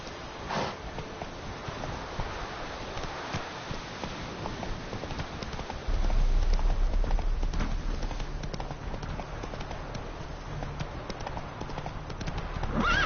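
Horse galloping in a video game, with rapid clip-clop hoofbeats running steadily and loud throughout, plus a brief whinny and a heavier low rumble joining partway through.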